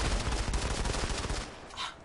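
Rapid bursts of automatic fire from the PR-39 gun in the shooter game Modern Combat 5, dense and loud, then trailing off near the end.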